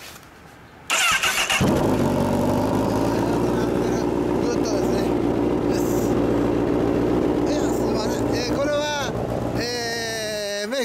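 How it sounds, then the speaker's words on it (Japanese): A 2009 Repsol Honda CBR1000RR Fireblade with an Asahina Racing exhaust starts with a loud burst, idles with a steady rumble, then revs up sharply near the end, with people talking faintly underneath. "エンジン音聞かせてもらえますか？"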